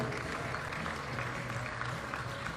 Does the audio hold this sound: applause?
yes